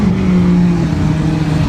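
A PT Cruiser making a drag racing pass at Newport Raceway: a loud, close engine drone holding a steady low pitch with a slight downward drift, continuous and alone without talk.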